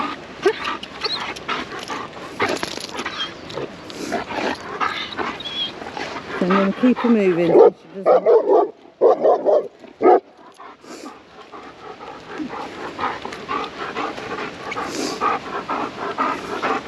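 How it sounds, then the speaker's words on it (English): A German Shepherd whines in high squeaky bursts and pants rapidly nearby while a person talks over it; the dog is highly reactive and nervous. "She is just a squeaky dog, like I keep telling you."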